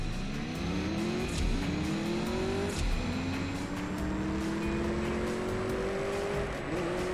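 A race car in CSR2 Racing roars as it accelerates on nitrous, its engine tone climbing steadily through repeated gear shifts with a continuous close drone.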